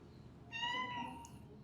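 A cat at a pet adoption café in São Paulo gives a single short meow, soft and fairly close, against a quiet room background.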